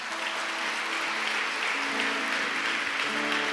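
A church congregation applauds in a dense, continuous wash of clapping, steady and loud throughout, with faint sustained musical tones underneath.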